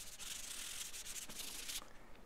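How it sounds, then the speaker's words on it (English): Sandpaper rubs quickly over a small wooden pochade box, a continuous close hissing scrape with slight back-and-forth surges that stops abruptly near the end. "Give everything kind of a quick sand."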